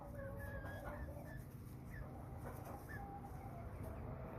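American Bresse chickens about twelve weeks old in a poultry yard, giving several soft, brief clucks and chirps scattered over a steady low background rumble, with no talking.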